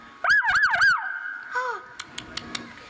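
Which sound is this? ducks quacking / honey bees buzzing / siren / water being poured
siren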